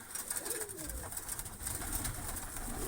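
Pigeons coo softly in low, rolling calls, repeated against a faint hum of background noise.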